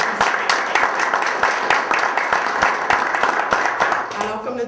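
Audience applause at a Daffodil Day fundraising event in 2012, steady moderate clapping from a crowd with voices talking over it throughout.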